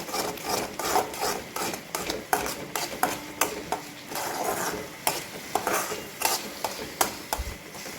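Masala and ginger-garlic paste fry in oil for chole, with rhythmic scraping strokes of a spoon stirring against the pan over a soft, steady sizzle.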